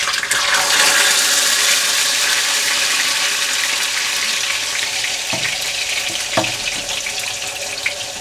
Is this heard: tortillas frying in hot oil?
yes